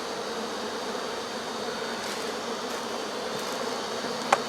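Honey bees swarm around a brood frame cut from a removed colony and refitted into a hive box, their steady buzzing hum continuous and fairly close, with a brief sharp knock near the end.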